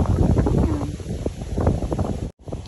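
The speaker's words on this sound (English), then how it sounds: "Wish I could pause the wind for you" Outdoor wind buffeting a microphone, a loud rumbling roar that gusts unevenly and cuts out briefly near the end.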